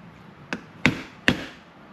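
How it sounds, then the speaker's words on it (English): Three sharp metallic hammer blows strike a screwdriver being driven under an ATV/UTV axle CV joint boot to pry it off. The first tap is lighter and the next two are harder, close up with short decays. "I like to get it under there by just smacking it with a hammer"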